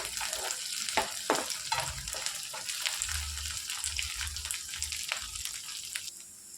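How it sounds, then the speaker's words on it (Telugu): Ginger garlic paste fries with eggplant and green peas in a pan for a curry, sizzling steadily up close while a spoon stirs with soft scraping strokes. "ఇందులోనికి హాఫ్ టేబుల్ స్పూన్ అల్లం వెల్లుల్లి పేస్ట్ వేసుకోవాలి మొత్తం ఇందులోని కలిపేసుకొని ఫ్రై చేసుకోవాలి"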